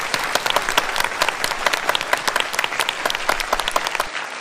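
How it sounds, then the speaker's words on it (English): An audience applauds after a global debate on AI governance, with dense, lively clapping and distinct individual claps standing out, loud and close, tapering off at the end. "a great round of applause for Team B for their wonderful performance"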